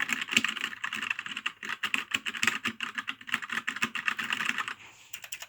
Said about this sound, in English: I love the sound of the typing.